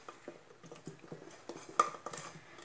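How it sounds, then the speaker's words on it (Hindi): Chopped tomatoes and carrots drop into a metal pressure cooker, giving a string of soft, close clinks and taps with small scattered clatters, fairly quiet overall. "इस तरह से देखिए टमाटर हमने डाल दिए।"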